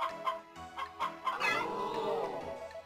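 Chickens cluck in Harvest Moon: Back to Nature, a quick series of short clucks followed by a louder, drawn-out squawk that trails off, close and clear with no talk.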